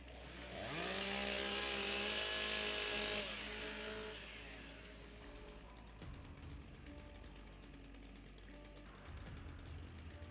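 Several chainsaws at a timbersports championship rev up together in a loud, harsh burst, then ease back to a lower idling drone, with another brief rev near the end.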